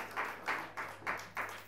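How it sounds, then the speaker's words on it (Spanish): An audience at an acoustic show for performer Pluma claps in a sparse, rhythmic pattern, about five soft bursts of hands close together, faint and without voices. "Fuerte el aplauso para Pluma, que va a ser la última."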